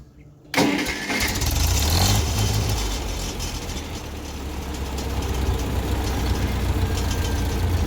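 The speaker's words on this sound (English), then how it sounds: "Crank it, let it idle." A Ferguson 35 tractor engine cranks and catches abruptly, then settles into a steady, loud, low idle that carries on close by.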